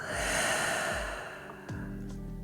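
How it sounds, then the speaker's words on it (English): A long, steady breath out during a calming yoga flow, soft airy exhaling close to the microphone over gentle background music, with a few faint soft thumps. "And exhale."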